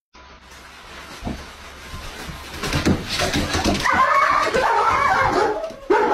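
Dog perched atop a refrigerator, giving small yips, whimpers and barks amid a person talking, with a louder outburst near the end.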